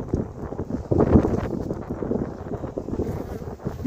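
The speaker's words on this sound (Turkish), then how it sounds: "Ya orada rüzgar esiyor, o yüzden kapatacağım." Wind buffets an outdoor microphone at a beekeepers' apiary in Antalya, a steady low rumbling roar that swells and dips in gusts throughout, with no voices.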